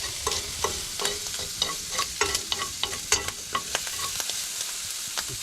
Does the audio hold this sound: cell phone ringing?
no